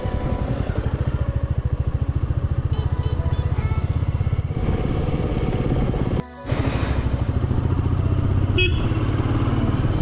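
A Royal Enfield Meteor 350 motorcycle on a test ride along a town road past a market, its single-cylinder engine thumping steadily and loud up close, with a short lull midway and faint traffic noise around it.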